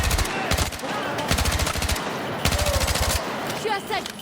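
Automatic weapon fire rattles in rapid bursts during combat in Battlefield 6, loud and close, with several sustained volleys broken by short pauses and a voice speaking briefly between them.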